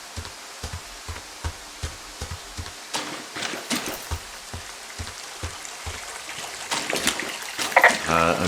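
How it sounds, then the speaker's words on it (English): Creek water trickles and drips steadily at Cottonwood Creek in the video game Firewatch, a soft rhythmic patter of water with a brief brighter burst near the end. "I'm here at Cottonwood Creek."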